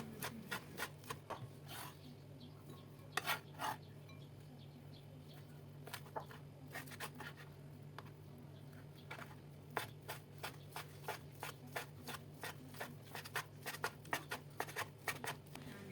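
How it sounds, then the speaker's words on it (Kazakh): A knife thinly slices fried cutlets for doner, producing a quiet series of crisp, close taps and cuts in uneven bursts that quicken toward the end, over a faint low hum. "Дайын болған котлеттерімізді осылай әдемі етіп, жіңішкелеп, өзіңіздің қалауыңызша турап шығыңыз"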